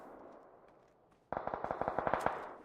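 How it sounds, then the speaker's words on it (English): Rapid bursts of gunfire in PUBG, a dozen sharp shots in quick succession after a quiet stretch, fairly close and loud. "More gunshots up the hill."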